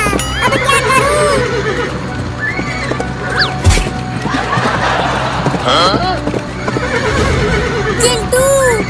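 A cartoon horse in a Hindi comedy cartoon neighs and whinnies repeatedly over quick galloping hoofbeats, loud and close, with a crash partway through and voices talking over the action.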